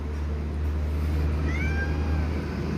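A cat gives a drawn-out meow on a Turkish street, a single rising and falling call heard over a steady low background hum, with no talking.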